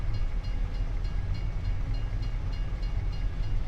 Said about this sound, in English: It looks like an EMD SW1000 or 1001 towing a short consist.